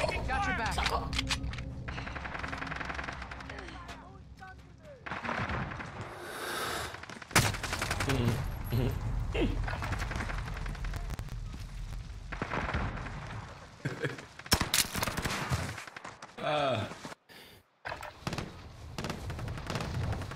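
Rapid bursts of video game gunfire crackle through a busy, dense mix, with sharp shots and heavier thuds recurring alongside steady background game noise and a voice talking over it.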